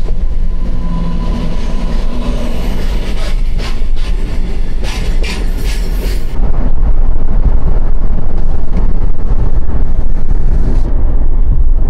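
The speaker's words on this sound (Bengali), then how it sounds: "যা মালগাড়ি এসে গেল, ভিউ শেষ।" A freight train passing near Farakka, loud continuous rumble and rattling of wagons with rhythmic clatter, close by and filling the whole stretch.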